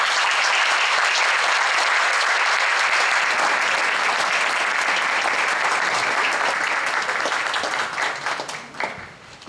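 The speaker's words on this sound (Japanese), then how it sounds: "皆様大きな拍手をお願いいたします。" Sustained, loud audience applause in a hall for a classical literature professor taking the stage at a lecture series, steady dense clapping for about eight seconds before thinning out at the end.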